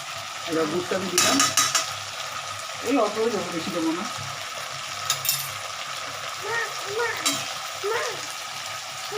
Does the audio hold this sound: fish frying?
yes